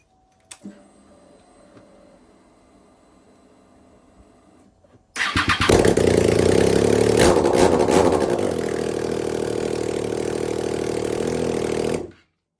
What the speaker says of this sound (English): bike's now starts. I'm sure it's gonna run once I hook up the gears and stuff, but man, that's loud